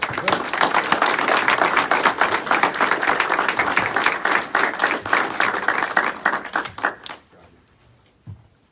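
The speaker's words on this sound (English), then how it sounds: "Let's give him a round of applause, please." A crowd applauds warmly at a US Navy farewell ceremony, dense clapping holding steady before thinning out and stopping, leaving a near-silent room with one last soft knock.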